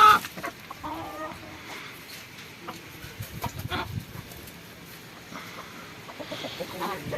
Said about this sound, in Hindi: ये आ गयो व्हाइट मुर्गो